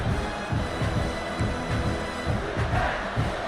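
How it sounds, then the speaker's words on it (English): Roaring stadium crowd in a football video game, a continuous, dense rumble of cheering and shouting that holds steady throughout with faint swells, heard from a distance with no commentary over it. "It's early, but this crowd is fired up. Listen to this noise here."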